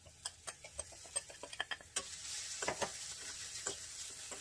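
Poha being stirred into a pan on the stove, with a string of light scraping clicks from the spoon, followed by a soft, steady sizzle under more stirring, heard close and fairly quiet.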